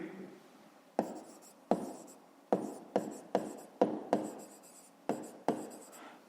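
A pen writes by hand on paper while a fifth-grade maths exercise is worked out, giving close, scratchy strokes that start sharply and fade, about nine in an uneven rhythm, with no other sound.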